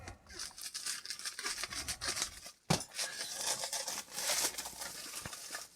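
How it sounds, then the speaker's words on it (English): Scissors snip and cut into a glued plastic mailing bag during an unboxing, close-up crinkling, rustling and sharp cutting sounds with a brief thump partway through, fairly quiet and without talk. "Let's take some scissors."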